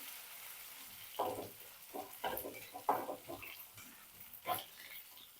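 Ginger-garlic paste being stirred into masale bhat in a pan: a series of scraping, clattering spoon strokes at an uneven pace, close and moderately loud, with a soft sizzle underneath.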